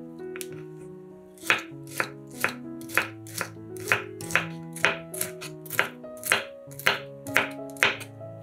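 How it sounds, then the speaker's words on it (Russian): A knife cuts bell pepper into small cubes on a board, about a dozen crisp, evenly spaced chops in a steady rhythm over soft background music. "Перец нарезаем сначала тонкими полосками, а затем режем их мелкими кубиками."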